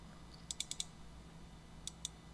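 Computer mouse clicking a save button while entering data, a quick run of four light clicks followed by two more after a short pause, faint and close with no talking.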